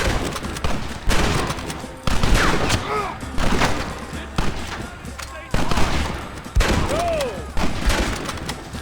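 Dense gunfire from a Red Dead Redemption shootout, with bursts of rapid shots and heavy booms across the whole stretch, loud and close, while voices shout over the firing.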